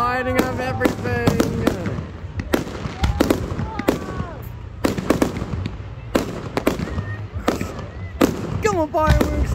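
New Year fireworks at Loch Sport bursting in a rapid series of loud sharp bangs and crackles, close and continuous, with people cheering and shouting over the blasts throughout.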